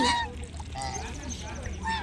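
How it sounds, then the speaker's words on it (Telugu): White ducks at a temple pond give short, nasal honks nearby, a couple of calls at the start and end, with faint talking in between. "బాతులు ఎంతో వైట్గా ఉన్నాయి"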